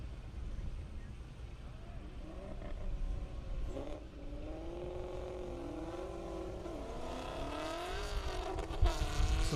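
Race cars roar past at a half-mile airport drag race in Indiana, including a C4 Corvette, with rising and falling engine tones over steady crowd and wind noise; a voice talks over the passes.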